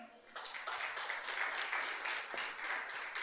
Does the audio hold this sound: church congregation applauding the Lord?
yes